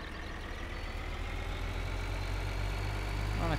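Tractor engine idling and running in Farming Simulator 2013, a steady low droning rumble with a faint whine, constant and unbroken with no talking.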